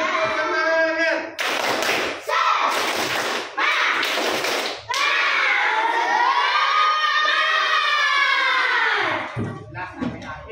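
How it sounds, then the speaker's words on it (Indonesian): An Indonesian primary classroom performs the tepuk semangat clapping chant at the end of a lesson: bursts of rhythmic group clapping and children's shouting, followed by a long sustained chanted cry from the class, loud and close. "Satu kali lagi tepuk semangat ya sebelum pulang ya."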